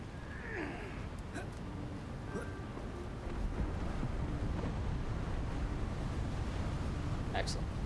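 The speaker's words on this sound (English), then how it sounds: "It's quite windy." Wind blowing through an outdoor scene in the Hogwarts Legacy video game, a steady breathy whoosh that swells slightly midway and continues unbroken, with faint game effects on top and no talking.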